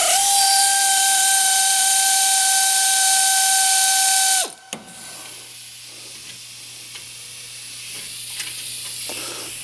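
A shop pneumatic air tool with a 9/16 socket spins a chain crossbar bolt loose, giving a loud, steady tonal whine for about four seconds before cutting off abruptly, followed by faint hissing and light clinks.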